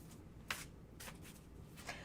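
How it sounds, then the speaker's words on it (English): A tarot card deck is shuffled by hand during a live reading, soft riffling and shuffling at close range, quiet over a low room hiss. "so shuffle, Mr. O."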